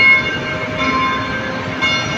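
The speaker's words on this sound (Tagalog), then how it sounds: "Ayun po yung tren. LRT." An LRT light-rail train rumbles past nearby near Baclaran Church, a steady loud roar with a faint high tonal ring over it.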